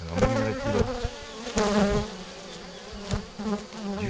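Honeybees buzz loudly and close around a Spanish Layens hive during a transfer to larger frames, a dense humming swarm with a brief spoken word.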